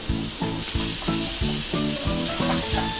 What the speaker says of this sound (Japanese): まずですね玉ねぎから炒めていきます